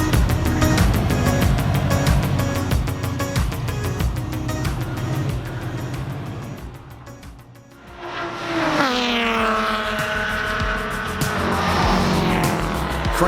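A Subaru STI Forester at speed on a race track, its engine loud and steady, then dropping briefly before rising again with a strong revving whine that climbs in pitch.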